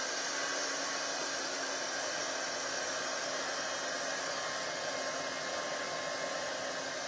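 A heat tool blows a constant, loud, steady hiss while melting embossing powder on foil-covered cardboard, with no talking over it.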